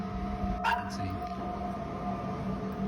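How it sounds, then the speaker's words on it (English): A single short dog bark or yip rings out faintly over a steady background hum, followed by quiet. "My dog just started barking for fucking reason."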